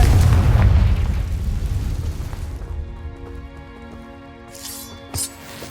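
A Confringo fire spell exploding in Hogwarts Legacy: a loud, deep boom at the start that rolls and crackles, then fades into a low rumble with light debris and a faint tonal hum.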